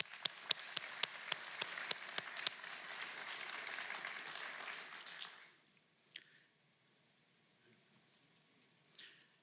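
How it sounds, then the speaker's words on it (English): Applause for an Honor Guard at a memorial ceremony for a fallen state trooper, clapping heard at a distance and fading out after about five seconds, followed by faint room noise. "A round of applause for our Honor Guard."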